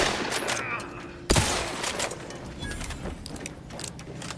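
Gunfire in the video game Outer Worlds 2: a sharp loud shot bursts out and is followed by a clatter of rapid, overlapping smaller bangs and rattles that continue to the end.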